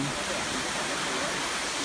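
Second tier of the Silver Waterfall in Sapa, a steady broadband rush of falling water filling the whole short stretch at an even, close level.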